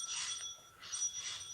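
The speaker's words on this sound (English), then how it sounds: "when the front doorbell rang." A front doorbell rings twice in bright, repeated bursts, a short pause between them, heard fairly quietly with no voices.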